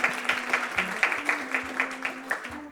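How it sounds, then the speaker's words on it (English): Audience applause at a live quiz game show, a steady patter of clapping from a modest crowd with repeated louder bursts, a faint tone humming underneath. "Applause, please."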